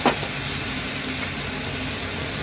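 Onion, ginger, poppy seed and mustard paste fry in hot oil, with a sharp hiss as the paste hits the pan, then a steady, close sizzle that holds evenly throughout.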